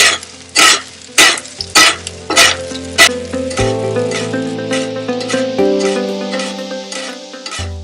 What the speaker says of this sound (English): we're going to put the fish up in the corner and just baste it with hot butter